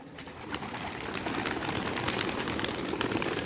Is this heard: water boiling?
no